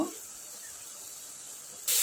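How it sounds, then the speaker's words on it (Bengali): A steady sizzle of mustard greens frying in a pan, soft and continuous, with a brief louder hiss at the very end. "শাকটা একদম ভাজা ভাজা করে নিচ্ছি"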